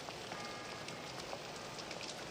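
Steady rain falls on the ground and nearby surfaces in a dense, even hiss of droplets, with no voices over the constant wash.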